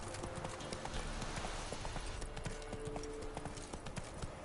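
Hooves of Roach, a horse in The Witcher 3, clip-clop in a quick, steady galloping rhythm, fairly close but quiet, with game ambience underneath.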